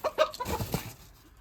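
A sick hen, one of a small backyard flock struck by an unknown disease, gives a few close, soft clucks in quick bursts before trailing off into quiet.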